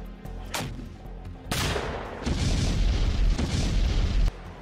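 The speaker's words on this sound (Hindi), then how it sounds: "चाहे धमाकों से दहलाते" A run of heavy grenade booms and sharp blasts in the Russia-Ukraine war, with a loud sudden burst and dense rumbling explosions continuing close by, no voices.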